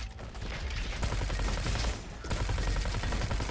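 Rapid SMG gunfire in the shooter Roboquest, a dense, loud stream of shots that breaks off briefly before resuming at full intensity.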